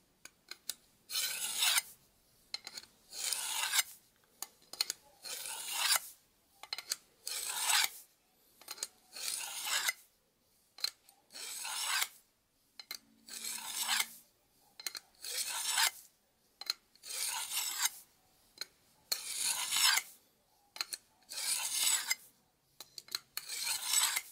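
A knife blade is honed on a Lansky Blade Medic sharpener: about a dozen soft, rhythmic rasping strokes, each a short filing scrape with brief gaps between them, close but quiet.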